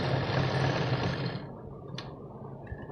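An electric sewing machine stitches a large blouse with a loud, fast, steady whir that stops halfway through, followed by a short click and a faint mechanical rattle.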